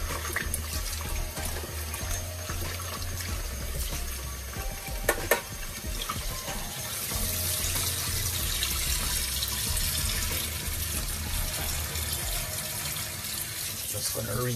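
Tap water rinses raw oxtail in a kitchen sink after a vinegar wash, a continuous close stream splashing over the meat with brief clatters.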